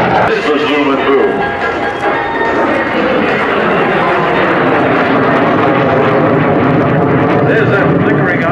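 A MiG-17 jet passes at an air show at March AFB, its engine running on afterburner, a loud sustained roar with rumbling and crackle filling the whole stretch, steady and near.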